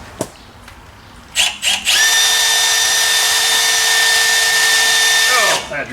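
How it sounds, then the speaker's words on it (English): A dull step drill bit bores into metal while brakes are worked on a car, with a few short spin-ups, then a loud, steady high-pitched whine held for several seconds before it winds down. "Oh, that drill bit's dull."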